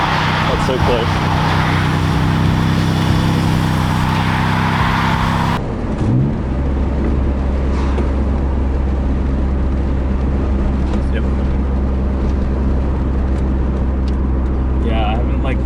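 Mitsubishi Galant VR-4 with a twin-turbo V6, heard from inside as a loud, steady engine drone under driving, with a shift in tone partway through and people talking over it.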